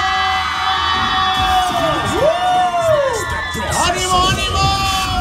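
A live norteño music concert crowd in El Campo, Texas shouting, whooping and cheering loudly, with overlapping high yells and whistles sweeping up and down, dense and continuous.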